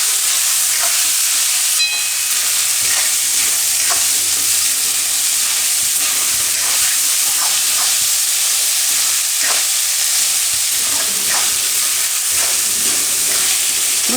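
Rice tossed and fried in a hot pan for orange rice, a Gujarati-style fried rice, gives a steady loud sizzle with scraping stirs recurring throughout, no voices.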